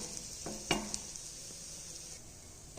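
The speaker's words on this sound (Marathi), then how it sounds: "आता हे पलटी केल्यानंतर खालची साईड पण छान अशी भाजून घ्यायची" A flipped methi breakfast roasts in a pan, giving a soft, steady sizzle with a couple of sharp ticks and a brief scrape, quiet and close, with no voices.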